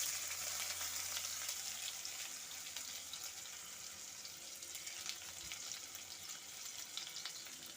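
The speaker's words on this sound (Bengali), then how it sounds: "পেঁয়াজ আর কাঁচা লঙ্কাটা আমি ভালো মতো ভাজা ভাজা করে নিয়েছি।" Chopped onion and slit green chili frying in leftover fish oil with black cumin seeds for a Bengali small-fish chorchori, a steady soft sizzle running throughout with faint stirring.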